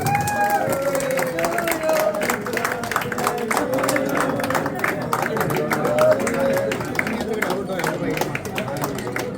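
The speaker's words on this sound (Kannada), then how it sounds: "ಎಲ್ಲರೂ ಜನ ಚಪ್ಪಾಳೆ ತಪ್ಪಬೇಕು." A crowd at a film producer's birthday cake cutting claps and cheers, with a dense patter of applause under lively chatter and voices, with a few shouts rising over the steady noise.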